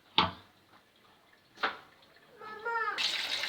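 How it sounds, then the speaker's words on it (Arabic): Dishes being washed under running water at a kitchen sink, with two sharp clinks of crockery followed by a steady stream of tap water filling the end. "بغسل في المواعين معاكم اهو"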